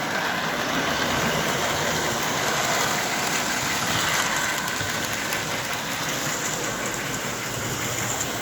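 A model train engine runs laps on a layout, giving a steady continuous whirring drone with a constant hum, moderately loud and unbroken throughout.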